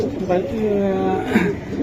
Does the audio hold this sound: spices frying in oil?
no